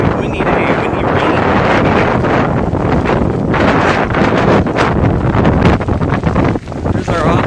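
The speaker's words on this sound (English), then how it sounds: "it's a windy day, windy rain" Hurricane Irma's wind and rain batter Clearwater Beach at night, loud gusty roaring buffeting the microphone continuously with rustling and splashing underneath, briefly dipping near the end.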